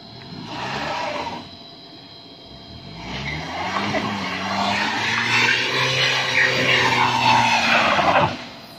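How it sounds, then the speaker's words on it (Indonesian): Car wheels spinning while stuck in mud on the steep road toward Citorek and Gunung Luhur: the engine revs hard and rises in pitch with a rough, whining spin, after a brief first burst, loud and close with no talk. "Mobil pertama berhasil melewati lumpur."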